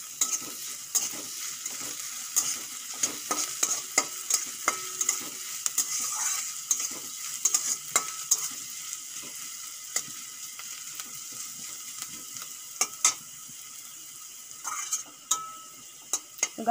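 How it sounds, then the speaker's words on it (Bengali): Chopped carrot, green chilli, garlic and ginger sizzle in a pan as a spatula stirs and scrapes repeatedly, crisp irregular clicks and scrapes over a continuous soft frying hiss. "গাজর, আদা, রসুন, কাঁচা লঙ্কা ভালো করে ভাজা হয়ে গেছে"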